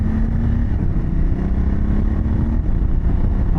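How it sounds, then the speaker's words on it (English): A Honda Transalp motorcycle fitted with a Dominator exhaust runs close by with a deep, throaty engine note that swells and settles in a steady low rumble, with no talk. "like on the exhaust. But I'll rev it up a little bit."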